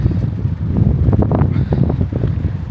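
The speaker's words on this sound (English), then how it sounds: "Bloody windy." Strong wind buffets a microphone on a walk at Butlins in Bognor Regis, on the way to a fish restaurant. Loud, continuous, rumbling low-frequency gusts with rough flutter fill the whole clip.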